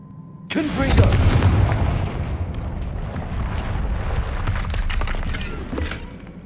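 A Confringo fire spell from Hogwarts Legacy erupts in a loud, booming blast that swells quickly and rolls on as a sustained rumbling, crackling roar with scattered sharp bursts, under faint background voice.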